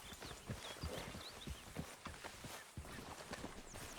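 Horse hooves clop in Red Dead Redemption 2, a quick rhythmic series of close, sharp hoofbeats over a soft ambient bed, with a few faint bird chirps.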